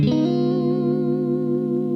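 An electric guitar sustains a distorted chord with chorus-like effects, its pitch wavering slightly as the whammy bar is worked, loud and steady with no talking.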